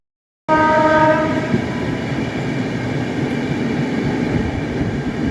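A Rajdhani Express train passes through Rani Kamlapati station at night, opening with a loud sustained horn blast and then a continuous heavy rumble of rolling wagons, close and loud, with no talk.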